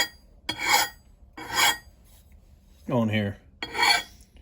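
A hand file sharpens an axe blade in four slow, even strokes, each a bright, gritty rasp close by, with a man's brief words between the third and fourth strokes.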